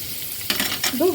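Pork belly fries in a pan for a Ukrainian-style rassolnik, giving a brief close burst of sizzling and scraping over a couple of seconds, ending in a faint metallic ring.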